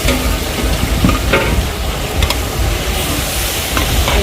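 Fried Chinese fish pieces tossed with fermented soybean paste in a big wok, loud continuous sizzling with rhythmic scraping and clanking of the spatula throughout, no talking.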